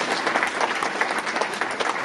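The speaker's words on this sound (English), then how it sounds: "please, a round of applause for Benjamin" A short burst of audience applause at a market insights presentation, steady crowded clapping from many hands lasting about two seconds with no speech.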